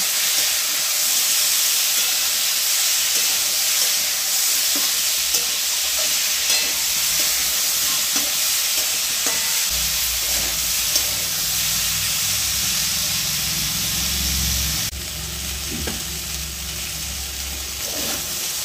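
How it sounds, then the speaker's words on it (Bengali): Drumsticks, potato and tomato fry in a pan with salt and turmeric, giving a steady, loud sizzle with occasional stirring scrapes; a deeper bubbling rumble joins midway, and no one speaks. "দু মিনিটের মতন সজনে ডাঁটা আলু টমেটোটা একটু ভেজে নিলাম"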